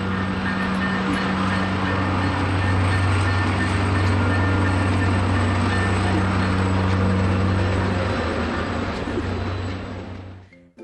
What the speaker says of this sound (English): Now here's the train.